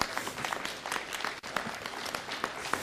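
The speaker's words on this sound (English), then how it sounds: "I'd like to ask the nurses in the audience to join us at the podium and give them all a round of applause." An audience at a city council meeting applauds nurses gathered at the podium, a faint, steady wash of many hands clapping that continues without a break.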